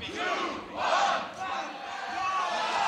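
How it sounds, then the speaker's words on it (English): A Grand Beatbox Battle 2018 crowd roars the final beats of a countdown, 'two, one', in unison. The loud massed shouts swell and fall in two or three waves. "Crowd, I say the three, y'all say the two and the one."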